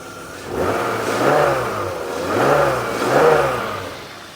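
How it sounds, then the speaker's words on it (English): A BMW E34 5 Series with a swapped S52 engine revs three times with no load, each climbing to a roar and falling back to a steady idle between bursts, loud and close. "Give it a couple freestanding revs."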